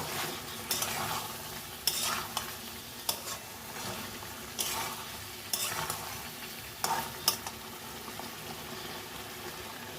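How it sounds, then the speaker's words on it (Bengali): Chicken fries with garam masala in a little oil, a constant soft sizzle broken by irregular scraping strokes of a spoon stirring the meat in the pan, close and clear. "গরম মশলা দিয়ে নাড়িয়ে দিলাম"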